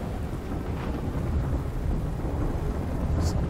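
Thunder and rain in a lawnmower video game form a steady, loud wash of low rumbling and hissing rainfall that continues without a break.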